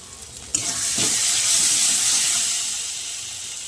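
Garam masala spices frying and being stirred in a pan for Bengali fish curry: a loud, steady sizzle and hiss that rises suddenly and holds close up, with faint scraping of the stirring underneath.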